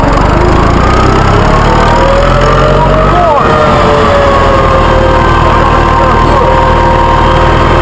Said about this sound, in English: this is quite a tractor you have.